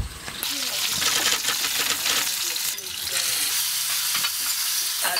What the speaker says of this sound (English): Strain off my ackee now.